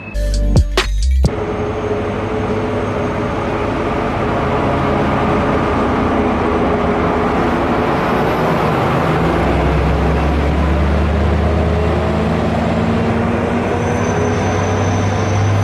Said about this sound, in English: it's another train coming out